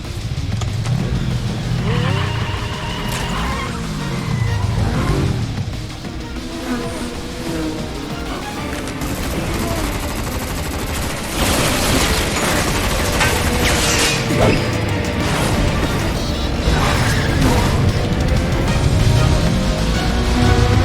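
Roaring engines, skidding tires and crashing impacts from the motorcycle chase in the Final Fantasy 7 Remake video game, a dense, loud mix of revving, sweeping engine tones and clattering hits that runs throughout.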